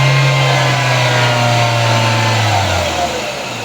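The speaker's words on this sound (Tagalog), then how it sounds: "Wala nang misfire. Engine is running good." A Toyota bB engine runs steadily after an engine coolant temperature sensor repair, a loud, close, even mid-to-low hum with no misfire, its pitch easing slightly downward near the end.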